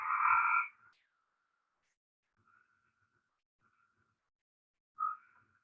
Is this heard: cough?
no